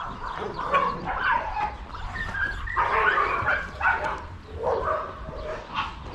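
Many dogs bark at an animal rescue shelter in Paphos, Cyprus, a continuous overlapping chorus of barks, yips and whimpers from several dogs at mid distance.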